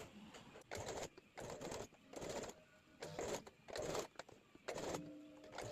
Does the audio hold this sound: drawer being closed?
no